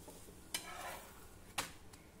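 A fasting paratha roasts on a pan with a faint, steady sizzle. Two brief scrapes of a spatula against the pan stand out, and no one speaks.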